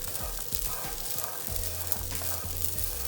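Food pan-frying in oil with chili and salt sizzles steadily up close, while repeated low clunks of stirring against the pan break in at a loose rhythm.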